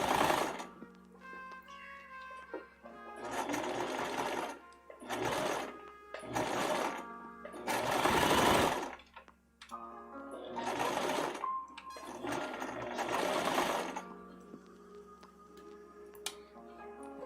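A sewing machine stitches fabric for a Halloween sewing project, running in several loud bursts of rapid mechanical whirring separated by short pauses, close up and alone.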